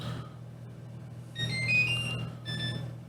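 A Traxxas LiPo charger signals that a battery is done with a short series of high electronic beeps in two bursts, faint over a low background hum.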